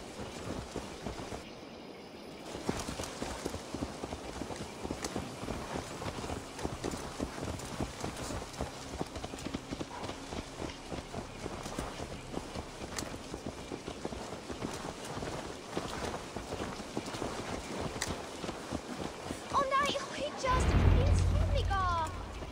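Horse hooves clip-clopping in Assassin's Creed Valhalla, a steady rhythmic trot with game music and voices running throughout, ending in a louder burst.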